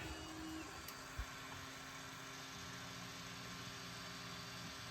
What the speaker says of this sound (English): Now this is stepper motors in action.